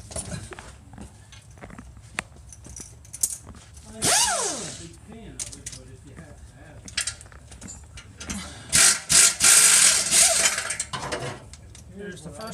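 Ratchet clicking while loosening exhaust bolts under a Honda Element, in short bursts of ratcheting between pauses with background noise, with a louder, longer ratcheting stretch near the end.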